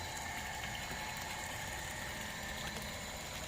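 A small engine-driven water pump runs steadily to fill an earthen fish pond for red tilapia beside rice fields, giving a continuous idling drone with a faint rattling vibration and no talk.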